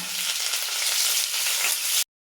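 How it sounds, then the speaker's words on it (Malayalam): Crushed onions hit hot coconut oil in a pan, giving a loud, steady sizzle and crackle close by for about two seconds before cutting off abruptly. "നമുക്കിത് ചതച്ച് വെച്ച ഉള്ളി വേപ്പിച്ചാലും ഇട്ട് കൊടുക്കാം."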